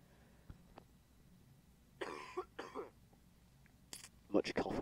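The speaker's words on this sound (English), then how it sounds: "Much cough again." Short bursts of coughing from a person playing a train simulator, two close coughs followed later by a few more sharp ones, moderately loud against a quiet background.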